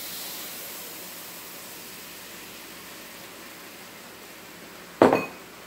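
Sauce hits a hot pan of beef stir-fry with ginger and garlic, over a steady loud sizzle, with one brief sharp splash and hiss surging near the end before fading back.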